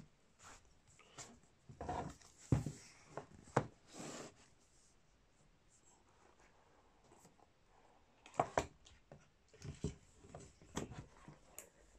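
Adhesive tape is cut with a small knife and peeled off a boxed wireless charger set in short, scratchy bursts, separated by quiet pauses, close by and fairly soft.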